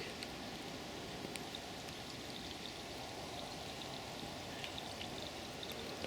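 Water poured steadily into a cooking pot at a woodland stealth camp under a poncho shelter, a continuous soft splashing stream with faint clicks, fairly quiet and without talk.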